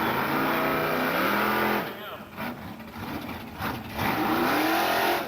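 A ten-second Chevy Nova drag car revs hard, then drops off abruptly into rough, choppy engine bursts before surging again at full throttle, loud and close at a drag strip, with voices faintly underneath.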